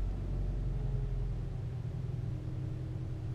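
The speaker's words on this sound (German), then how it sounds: "Und jetzt starte ich das Motor." Volkswagen Golf Plus engine starting and settling into a steady, close low idle rumble, heard alone throughout.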